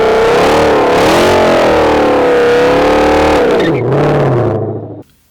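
A 2020 Ford GT500 Mustang roars loudly through a burnout with traction control on, engine screaming steadily for about three seconds, then revving down and cutting off abruptly near the end.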